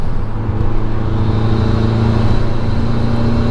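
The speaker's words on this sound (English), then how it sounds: "That Evo sound is so distinctive." A modified Mitsubishi Evo's engine drones loud and steady close by at a car show, with a deep rumbling note that holds throughout.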